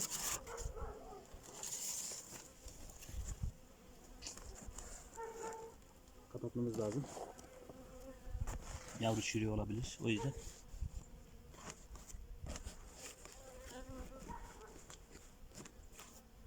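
Low, steady buzzing of many honeybees in a hive, with someone talking close by in Turkish.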